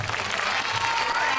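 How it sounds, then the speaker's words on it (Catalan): Sustained applause from a crowd at a Christmas 2015 choir performance, a continuous wash of clapping with a faint tonal voice or music line threading through it. "Així que un fort aplaudiment per a tots."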